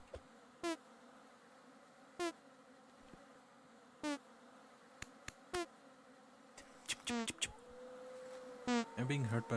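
Bees buzzing in a Minecraft-style survival video game on a multiplayer server, heard as several short, separate buzzy bursts spread across a quiet background, later joined by clustered clicks and overlapping buzzes, all fairly soft with no talking.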